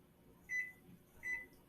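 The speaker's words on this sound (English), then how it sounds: "microwave for 90 seconds" Microwave oven heating a banana muffin in a mug, with two faint, brief electronic tones about a second apart over a low, quiet hum.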